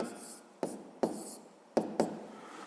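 A pen or pencil scratches out numbers by hand in short, quiet strokes with a few sharp taps between them, close up, during a fifth-grade maths exercise.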